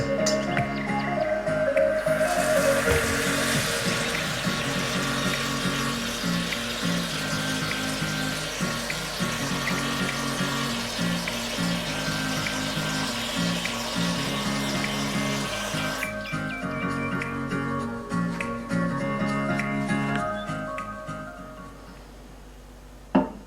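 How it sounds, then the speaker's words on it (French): Tap water pours into a kitchen salad bowl in a loud, steady rush for around sixteen seconds, then cuts off. Faint tonal background sound runs underneath. "je vais prendre un saladier et le remplir d'eau"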